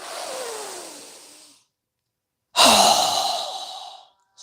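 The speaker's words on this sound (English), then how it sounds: "exhale through our mouth with a strong, fast breath as we quickly lower our arms and hands down" Two strong, fast exhales through the mouth during a breathing exercise, each a loud, close rushing breath lasting over a second, separated by a short pause.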